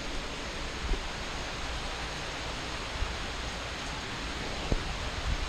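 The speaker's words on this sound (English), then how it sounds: "It's pouring a lot harder out there than in here." Heavy rain pouring outside a house, a steady dense hiss that fills the whole stretch, with a few faint knocks now and then.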